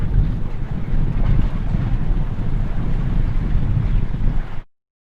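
Several large turbine fans blow on a film set to imitate outdoor wind, producing a loud, steady, close roar and buffeting gusts. It cuts off abruptly just before the end.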